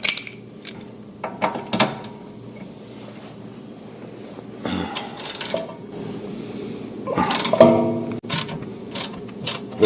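A ratchet works loose a rear camber arm bolt on an Acura Integra DE4, giving intermittent metallic clicks and clanks of tools against the suspension, fairly close and moderate in volume, with quiet gaps between bursts.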